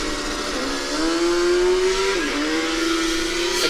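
A Formula Student combustion race car accelerates from a standing start, its engine rising in pitch in a loud, steady whine, dropping briefly at a gear shift, then climbing again, with crowd noise underneath.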